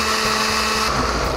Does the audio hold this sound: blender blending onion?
yes